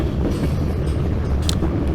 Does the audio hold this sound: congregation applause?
no